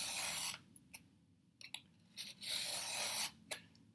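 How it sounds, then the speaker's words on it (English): Blade slicing through thick, doubled paper on a cutting mat, a series of close scratchy tearing strokes, some long and some short, separated by quiet pauses. "I can still hear it cutting the paper"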